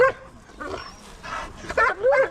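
Hunting dogs at a dog show ring give a few short barks and yips in quick bursts, with whimpering tones and a brief high squeak in between.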